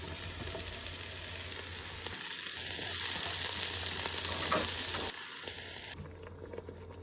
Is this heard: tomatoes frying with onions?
yes